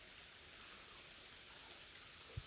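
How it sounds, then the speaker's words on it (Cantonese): Heavy rain falling steadily, an even, dense hiss of drops heard at a moderate distance with no pauses. "聽唔聽到落雨聲啊？ 好大個落雨聲"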